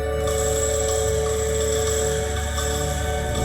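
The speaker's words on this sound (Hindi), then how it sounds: "सर, मैम को कॉल आया।" A telephone rings with an incoming call in the Indian crime drama Savdhaan India, a steady, continuous electronic tone that fills the scene at even loudness without speech.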